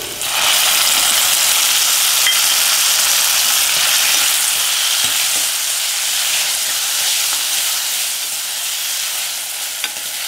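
Chopped onion and a medium tomato sizzle in a hot pan, a dense, even hiss that holds loud and close for the whole stretch, with faint occasional stirring.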